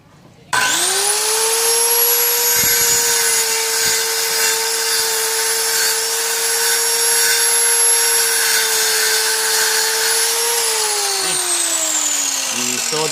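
A Kawasaki 1185G circular saw whines at a steady, loud high pitch while cutting through wood for about ten seconds, then winds down as the blade slows.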